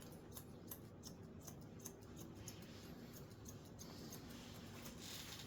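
Scissors snip hair in quick, light, repeated clicks at an irregular rhythm, close and fairly quiet over a faint background hiss.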